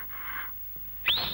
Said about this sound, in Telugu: 3వ విజిల్ వేసేస్తా.